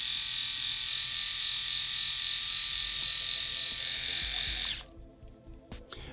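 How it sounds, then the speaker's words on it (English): A Phisco RMS8112 dual-cutter rotary electric shaver switched on, giving a steady, loud high-pitched buzz for several seconds before it cuts off, leaving a few faint clicks and handling noises. "this is the sound of the shaver when you turn it on"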